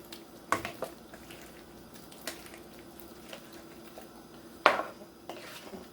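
Cooked pasta is dropped into a pan of garlic parmesan shrimp, a few sharp clatters and soft wet slaps at intervals over a quiet background, two louder hits standing out.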